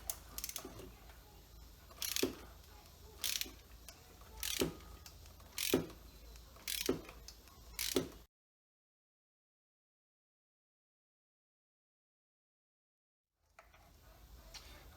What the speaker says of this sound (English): Just to break them free. See if we can ease them out of there.